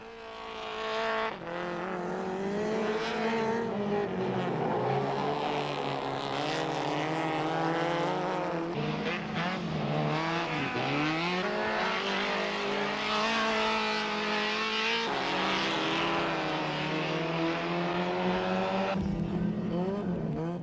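Several racing engines whine and rev as cars pass during a 1995 Polish race at Słomczyn, pitch sweeping up and down through gear changes, loud and continuous with no talking.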